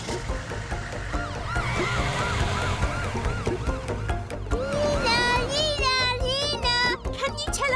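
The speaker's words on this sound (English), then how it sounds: "But we didn't test the siren yet. We'll do it on the way." A cartoon fire truck's siren is tested, a loud wailing tone rising and falling repeatedly over background music, with children's voices chattering alongside.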